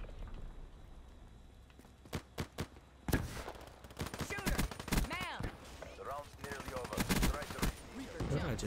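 Gunfire in the shooter game Black Ops 3, several close sharp shots in bursts followed by denser rapid fire and impacts, with a voice talking over the action.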